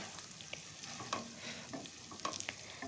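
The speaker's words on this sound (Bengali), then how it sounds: "আমি একটু চাপা দিয়ে দিয়ে কষিয়ে নিচ্ছি আর দেখো কত সুন্দর তেল রিলিজ হওয়া শুরু হয়ে গেছে" Keema aloo dum masala sautéing in a pan as a spatula presses and stirs it, producing a quiet sizzle broken by repeated scraping and tapping strokes.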